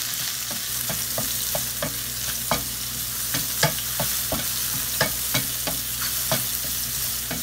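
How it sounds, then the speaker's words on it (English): Mushrooms stir-fry in a hot pan, a constant loud sizzle broken by a steady run of sharp scraping strokes from a spatula, with no talking. "I'm gonna stir fry mushroom"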